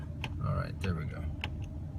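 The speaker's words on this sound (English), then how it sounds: "It's clicking away like crazy here. It wasn't a very responsive button." Repeated dashboard button clicks inside a 2016 Ford Expedition XLT with a 3.5L twin-turbo EcoBoost, several sharp ticks spaced irregularly over a low cabin rumble, with a voice speaking faintly beneath.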